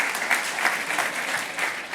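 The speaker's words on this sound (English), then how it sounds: "You can clap for that." Audience applause at a campus master plan meeting, a steady wash of many hands clapping that holds evenly for about two seconds, fairly loud with no voices over it.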